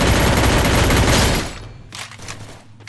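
An MP40 submachine gun fires a loud, dense automatic burst in the Free Fire video game, which breaks into a few scattered shots before dying away.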